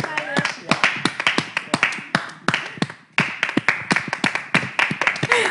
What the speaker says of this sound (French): je vous demanderai d'applaudir très fort pour M. Théophile